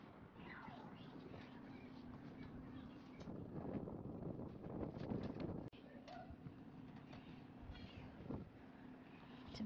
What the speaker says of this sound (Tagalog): It's a bit windy, very windy.